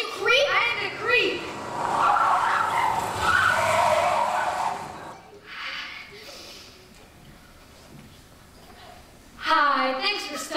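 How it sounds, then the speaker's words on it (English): A car approaches and its tires skid and squeal as it comes to a stop, a loud drawn-out screech over engine noise. Voices talk before and after the stop. "There's a car coming."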